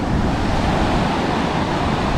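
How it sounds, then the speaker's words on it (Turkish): Sea waves break on the rocks at Akçakese beach in Şile, Istanbul: a loud, steady roar of surf and wash fills the whole clip, with wind noise and no voices. "kayalıklar birazcık dalgayı kırıyor"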